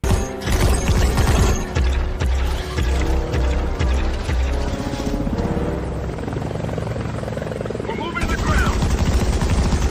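Loud helicopter rotor thumping dominates a generated transformation scene, mixed with heavy mechanical clanking and gunfire-like bangs, continuous for ten seconds with a sharper burst of impacts near the start.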